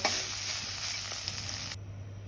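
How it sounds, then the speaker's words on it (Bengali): Soybean chunks fry in oil with a continuous close hiss and occasional soft stirring scrapes, and the sizzle cuts off abruptly near the end. "আমার সয়াবিনটা ভাজা হয়ে গেছে"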